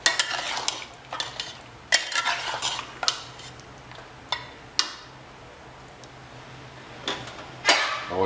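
Mutton korma being stirred in a pot after a bowl of water is added: a series of sharp spoon scrapes and clinks against the pot about once a second, close and fairly quiet, with no talk.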